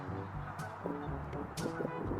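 Canada geese honk repeatedly at a duck pond in a New York City park on a rainy day, with several loud, close calls over a steady wash of background noise.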